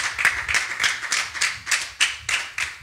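A church congregation claps in a steady rhythm to acclaim the Lord, about eleven sharp, close claps spaced roughly a quarter second apart, with a faint low hum of music or voices underneath.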